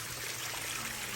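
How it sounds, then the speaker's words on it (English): A waterfall inside a conservatory spills over volcanic rock into a pond, giving a soft, steady rush of falling water with no voices. "Look at this beautiful waterfall"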